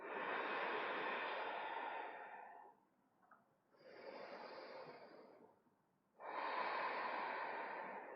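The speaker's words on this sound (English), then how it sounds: "Steady the breathing." Steady, deep breaths during a vinyasa yoga class: a long airy exhale, a pause, a softer inhale, then another strong exhale, all close and even in rhythm with no voices.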